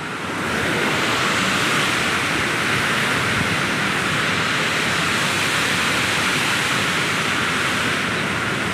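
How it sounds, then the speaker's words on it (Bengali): Fast-flowing river water in Nepal rushes in a steady, loud, unbroken roar, a dense wash of turbulent flow that stays close and constant throughout with no voices over it. "পানি খুব স্পিডে আসছে।"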